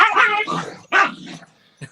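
Dogs barking and growling while fighting over a bone indoors, loud and close, two bursts of snarling barks with a short yip at the end.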